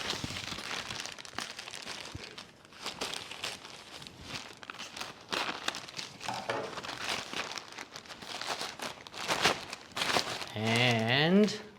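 Plastic wrap on a shipping box being cut open and crinkled for a water leak detector unboxing, crackling bursts of plastic and cardboard noise close by under ongoing talk.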